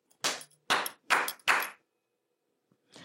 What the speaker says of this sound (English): when I release the impulse response, like a clap, the sound that reverberates in the space only reverberates for about a second